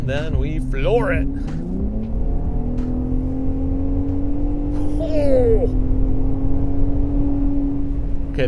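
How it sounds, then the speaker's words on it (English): A 2021 Ford F-150 Raptor with 37-inch tires accelerating at full throttle, its engine note climbing and holding as a steady drone from inside the cabin, while a person speaks briefly at the start and again midway. "Then we floor it."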